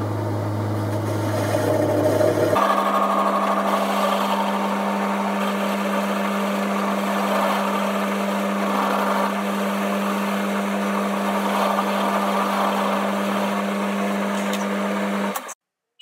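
A metal lathe cutting a groove at the end of a thread while making an ER20 collet holder, a steady mechanical hum that shifts to a higher drone when the cut starts, running evenly for about thirteen seconds before stopping abruptly.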